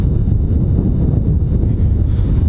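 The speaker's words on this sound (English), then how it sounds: "it is kind of windy today, so you might hear wind noises and whatnot" Low, blustery wind buffets the microphone in a constant rumbling roar, with no other sound standing out.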